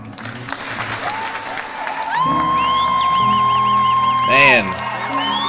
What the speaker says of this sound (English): Please join me in a round of applause for the Army's